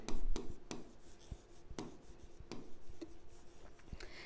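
A pen or marker writes a maths theorem by hand during a class 9 geometry lesson, giving sharp scratchy taps and short strokes at an uneven pace, close and moderately quiet, with no talking.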